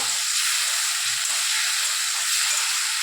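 Potatoes are stirred into a pan for a Dimar Kari curry and give off a steady bright sizzling hiss close by, with faint scraping underneath.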